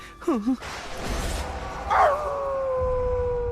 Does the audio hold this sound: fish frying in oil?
no